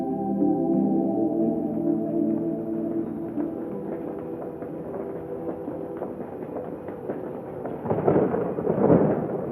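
Thunder rolls during a storm over Tucson, a long, continuous low rumble that stays steady and then swells into a louder crackling burst near the end, with no voices.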